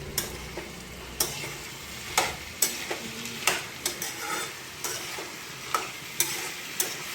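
Potato poha with turmeric fries in a pan, a soft continuous sizzle broken by regular sharp scrapes and taps of a spoon stirring, close and fairly quiet with no voices.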